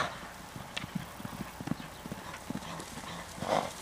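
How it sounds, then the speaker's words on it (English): A horse close by clip-clops with irregular hoof thuds and stamps, with a brief soft whinny-like sound near the end and no talking. "That's a lot of horse."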